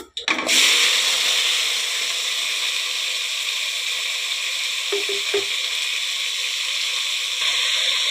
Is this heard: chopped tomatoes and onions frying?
yes